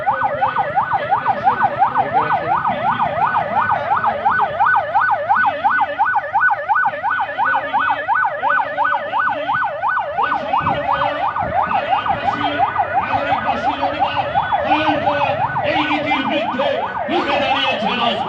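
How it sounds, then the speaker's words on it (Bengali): An ambulance siren wails in a fast, steady up-and-down cycle as it passes along the Khulna–Mongla highway, loud and close throughout, with traffic rumble underneath. "দেখতে পাচ্ছেন আরেকটি অ্যাম্বুলেন্স চলে যাচ্ছে।"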